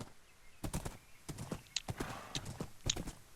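A fast brown horse's hooves clip-clop across the ground in a farm video game, with a steady run of crisp, close hoof strikes and a faint whinny-like undertone.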